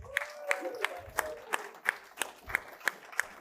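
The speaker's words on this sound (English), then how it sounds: "May I have an applause for this lady?" An audience applauds a lady at a gathering with a faint, evenly paced run of claps about three per second, sounding thin and somewhat distant.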